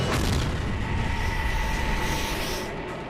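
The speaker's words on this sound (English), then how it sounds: "Suddenly, there's a flash and a loud bang." A loud, sustained explosive boom with a roaring rumble right beside a catapult on an aircraft carrier flight deck, where Skyhawk jets are being launched.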